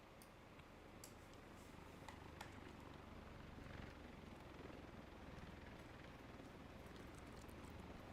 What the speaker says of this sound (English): I hear a helicopter. Do you guys hear that helicopter?